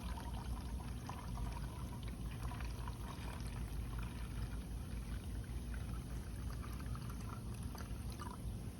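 Paint reducer pours into a mixing cup for automotive base coat, a faint, steady trickle of liquid lasting several seconds under a low background hum.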